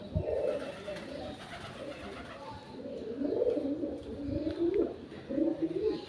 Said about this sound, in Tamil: புறாவோட சத்தம் கேட்குது